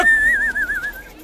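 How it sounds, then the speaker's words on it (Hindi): A person whistles a single wavering, trilled note that is loud and close, lasts about a second, and fades out. "बिना परमिशन के सीटी बजा रहा है ना?"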